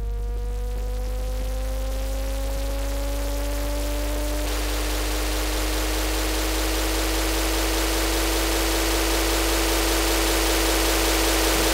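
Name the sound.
white noise from a Cryptonym synthesizer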